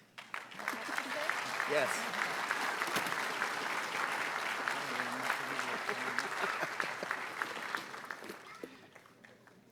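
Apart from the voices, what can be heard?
audience applause at police merit awards ceremony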